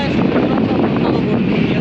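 Strong, steady wind roars across the microphone in a broad, continuous rush, with a low rumble underneath, on Bashbaria sea beach in Bangladesh.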